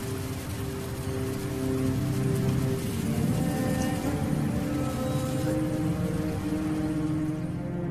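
Heavy downpour at the start of the rainy season in the African wilds, a dense and loud unbroken roar of rain pounding the ground throughout, with no voices.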